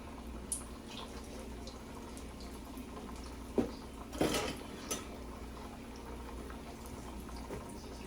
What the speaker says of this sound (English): I'm just putting oil over it